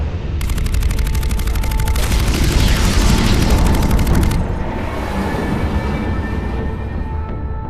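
Weapon fire and explosions in the video game Mass Effect 3 roar loudly and continuously, with a rapid rattling burst of gunfire over deep rumbling booms that then fade into a lower sustained drone.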